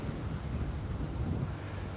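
Steady ocean breeze buffeting the microphone with a low rumble of waves and surf beneath, a continuous wash of wind and water with no voices.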